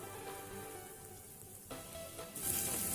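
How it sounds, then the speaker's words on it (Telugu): Small tomato pieces frying in a pan, a quiet continuous sizzle that swells into a brighter, hissier crackle toward the end. "ఈ టమాటాలను ఎక్కువ ఫ్రై చేయని అవసరం లేదు, 1 నిమిషం ఫ్రై చేసుకుంటే సరిపోతుందండి"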